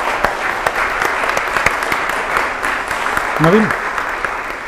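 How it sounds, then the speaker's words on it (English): Audience applause at a family event honoring the Rashi family, a dense steady wash of clapping with a brief spoken name cutting through near the end. "a huge round of applause again for my family and my friends"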